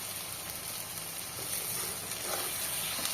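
Masala frying in a pan as Kashmiri red chili powder goes in, a soft steady hiss and sizzle with a slight lift partway through, fairly quiet and close with no talking.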